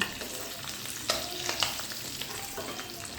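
Duck eggs are lifted out of hot oil in a pan, with a steady, close sizzle and a few sharp scrapes and clinks from the utensil over about three seconds. No voices are heard.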